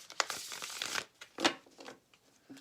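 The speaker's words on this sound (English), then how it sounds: "I'm going to give this 3 shuffles" Tarot cards being shuffled by hand, a few quick riffling bursts separated by short pauses, close and fairly quiet with no talking.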